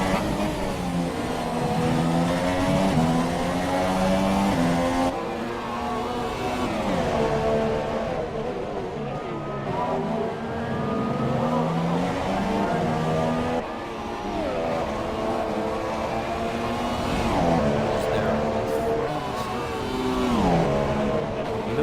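Race cars lapping the Canada circuit in a racing video game, engines revving and shifting through gears with rising and falling whines, loud and continuous, with several cars audible close together.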